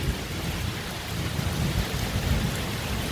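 Steady rain pours in the Brazilian sertão, a dense continuous hiss with low rumbling thunder rolling underneath, loud and close throughout.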